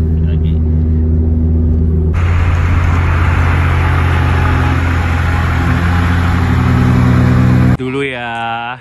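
A Honda Brio car cruises along a toll road toward Bromo, its engine and road rumble loud and steady from inside the cabin, the tone shifting partway through before a brief voice at the end.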